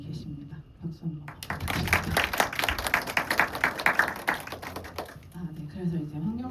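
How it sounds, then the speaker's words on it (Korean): A film festival audience at the 26th Korean Queer Film Festival screening Q&A applauds in a dense, sustained burst of clapping lasting several seconds, with a voice speaking just before and after. "박수 한번."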